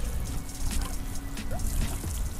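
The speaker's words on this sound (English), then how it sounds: "A little water, get it to freeze in tonight." Water pours steadily onto the base layer of a backyard golf green, a continuous close splashing trickle with no voices.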